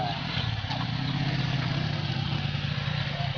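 Motorcycles running on a farm road in the provincial countryside, a steady mid-pitched engine drone with a low rumbling hum, fairly close and continuous with no voices.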